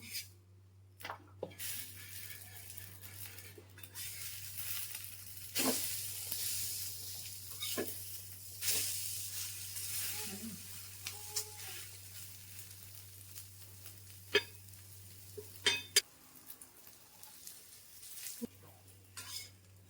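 Bread omelette toast fries in a pan with a steady close sizzle, broken by occasional scrapes and clinks of a utensil against the pan, with no talking.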